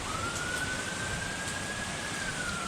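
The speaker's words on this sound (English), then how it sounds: "Gonna be hearing sirens all night." A distant emergency vehicle siren wails during Hurricane Milton, one faint, slowly rising and falling tone drawn out over a steady wash of wind and storm noise.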